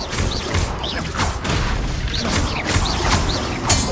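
A Confringo blast spell cast in the video game Hogwarts Legacy, a loud, close series of booming, crashing impacts in quick succession, with whooshing flourishes layered over dense combat noise.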